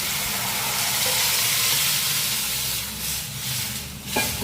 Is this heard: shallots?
yes